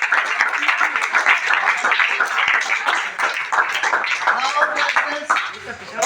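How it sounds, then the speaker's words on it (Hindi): A room of spectators applauds a quiz contestant during a team quiz contest, producing steady, fairly loud overlapping claps that dip briefly near the end while voices murmur underneath. "प्रियांशु शेखर के लिए ताली।"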